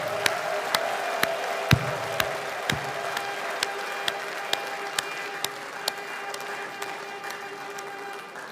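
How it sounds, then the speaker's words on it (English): A crowd at an outdoor Biafra gathering claps steadily in a dense, sustained round of applause, with a few sharper knocks punctuating the even wash of hand claps. "another hands of applause for Mr. Dodd"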